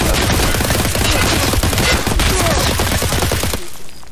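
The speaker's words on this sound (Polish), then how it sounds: "Cztery strzały oddałem." Rapid, loud bursts of gunfire in the video game Escape from Tarkov crackle continuously for several seconds, then cut off abruptly.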